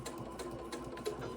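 A sewing machine back tacks at the start of a seam on vinyl, giving a short, steady, fairly quiet mechanical hum with a slight pulsing.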